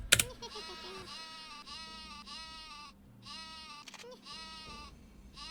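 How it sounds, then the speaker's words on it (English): Sheep from the PC video game Worms Armageddon bleat several times in a row with short gaps. The wavering bleats sit over a busy game soundscape. "this sheep is actively trying to fall off these girders"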